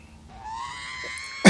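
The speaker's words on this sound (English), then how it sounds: "R2 and his scream is killing me." R2-D2 droid screaming in a Star Wars film, a rising electronic warbling squeal with layered whistling tones lasting about a second, loud and alone, then cut off by a sharp burst.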